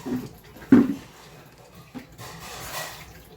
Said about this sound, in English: let me dump this in the toilet then